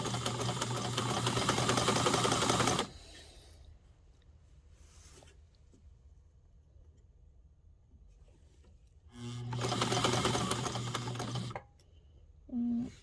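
Sewing machine stitching a hem, running in two loud sustained bursts of rapid motor-driven stitching separated by a quiet pause with faint handling noises, ending with a short mechanical clunk.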